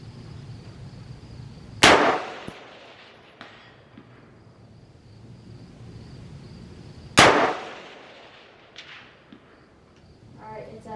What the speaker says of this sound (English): You hear that crack? That's when the round goes supersonic.